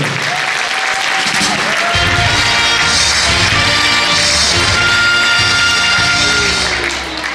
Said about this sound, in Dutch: een applaus terug voor onze adjunct Mees en jubileum jeugdprins Vin de Eerste